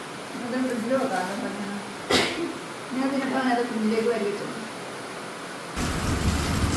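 Rain hisses steadily in the background while people talk over it, growing heavier and louder near the end.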